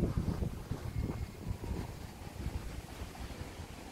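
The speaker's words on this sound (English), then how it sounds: "It's a little bit windy." Wind gusting over the microphone on a street in Galashiels in the Scottish Borders, a close, buffeting low roar that rises and falls in uneven bursts, loudest at the start.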